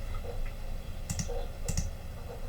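A computer mouse is double-clicked twice in a row, each pair of sharp, close clicks crisp and near against quiet room noise, with no talking.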